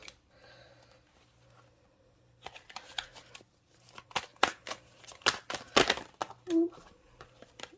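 Quiet talking at first, then a run of crisp tarot-card shuffling snaps and flicks, close and fairly loud, ending with a short vocal sound.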